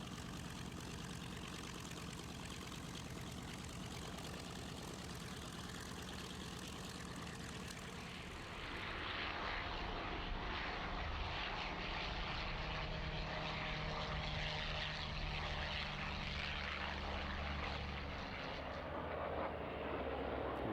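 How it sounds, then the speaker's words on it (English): Piston engines of a B-25 Mitchell bomber flown by the Duke of Brabant Air Force drone steadily at an airshow, a broad continuous roar that swells louder and fuller about halfway through as the aircraft draws nearer. "the B-25 Mitchell of the Duke of Brabant Air Force, flown by René van Hemert and Hans Delaveau."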